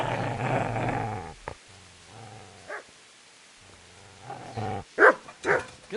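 A dog growls in a long, low rumble up close, then falls quiet before breaking into a few sharp, loud barks.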